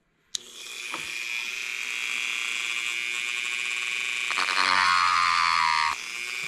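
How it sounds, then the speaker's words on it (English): A Dremel rotary tool cuts a notch into the ear muff of a hardhat, giving a loud, close, sustained high-pitched whine after a sharp start, rising in pitch midway as the speed increases, then cutting off. "you're going to want to start the Dremel. And all you're doing is cutting a notch in there for the wire"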